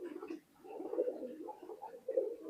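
Soft, low pigeon cooing from bloodline pigeons kept for sale, a few gentle rolling coos in quiet succession, faint and close with no talking.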